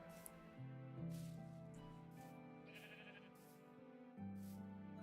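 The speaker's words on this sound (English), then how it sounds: "I heard a sheep." A sheep bleats in the video game Minecraft during gameplay: short, soft bleating calls over gentle, sustained in-game background music, all fairly quiet.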